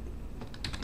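Several quick, faint keystrokes on a computer keyboard tap out in a short, close burst.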